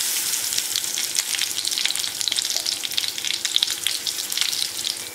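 Ground lentils frying with curry leaves in a pan give a loud, steady crackling sizzle with rapid spits and pops throughout, close up and with no voices.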